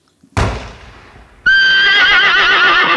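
A sharp thud is followed by a loud, close horse neigh, a long quavering whinny that holds until the end.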